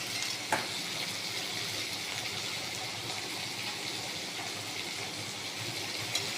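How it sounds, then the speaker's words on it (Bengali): Small mourola fish frying in oil over a high gas flame, a steady dense sizzle and crackle at moderate level, with a sharp clink near the start and another at the end, no speech. "গ্যাসের ফ্লেমটা একটু হাই করে ভেজে নেব।"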